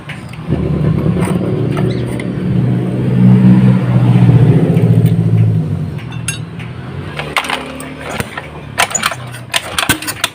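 A motorcycle engine, recovering from seizing after running out of oil, runs with a steady low drone that swells into a rev around the middle, then drops away as sharp metallic clinks and taps follow, with no talking.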